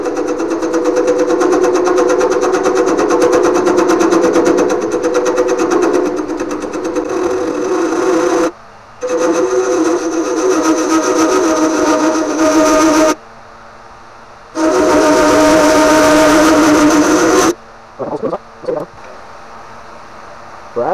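Wood lathe spinning a walnut urn blank at about 550 RPM while a carbide tool cuts, giving a loud steady whirring drone with abrupt drops where the cut stops, then resumes.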